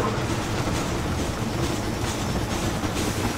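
A train rolls along in Red Dead Redemption with a dense, continuous rumble and rattle of wheels on track, steady and close with no gaps.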